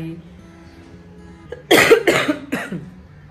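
A few harsh, close coughs from a cold burst out in quick succession after a stretch of near-quiet, the last one weaker.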